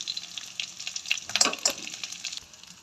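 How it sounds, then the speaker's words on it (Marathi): Stuffed eggplants and green chillies go into hot oil, setting off a short, bright sizzle that swells briefly in the middle and then fades. "आणि हिरव्या मिरच्या आणि भरलेले वांगे तेलामध्ये टाकून द्यायचे"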